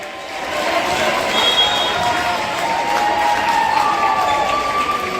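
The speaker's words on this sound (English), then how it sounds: "Crowd's very happy to see that happen." A volleyball crowd at a varsity match between Kings and Anderson cheers loudly, a sustained swell of voices and whistles rising after the opening second and holding steady throughout.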